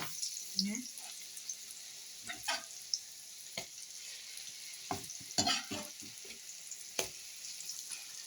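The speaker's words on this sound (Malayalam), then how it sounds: "ഞാൻ ബ്രെഡ് പൊരിക്കുന്നുണ്ട് കേട്ടോ." Bread frying in a pan makes a quiet background sizzle broken by scattered stirring and scraping clicks, fairly soft overall.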